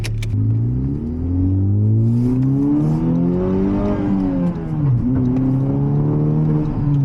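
A Honda car accelerating hard on a test drive, with torque steer pulling it to the left: a loud, continuous engine drone whose pitch climbs and sags as it revs, close and steady throughout with no talking.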